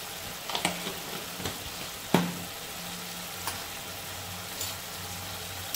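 Spices with turmeric frying in a pan for pabda fish curry, a soft continuous sizzle with a few sharp spoon taps and scrapes from stirring, no talking.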